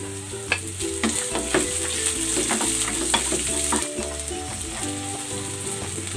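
Garlic and onion fry in a pan for a Filipino milkfish (bangus) dish, a steady loud sizzle with clinks and scrapes of stirring running throughout, no voices.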